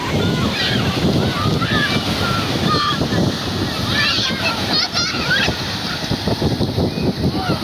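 Waves wash and break steadily close by on a beach, with voices and laughter carrying over the surf throughout.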